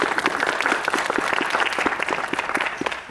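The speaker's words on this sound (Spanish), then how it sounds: "Fuerte las palmas, por favor." Applause from an audience at a university engineering lecture in a Spanish-speaking setting: steady, fairly close hand clapping with distinct individual claps, continuous for about three seconds.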